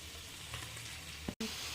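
Prawns fry in a pan with garlic, giving a brief, quiet, even sizzle with a soft clink of a utensil just before a short cut in the sound.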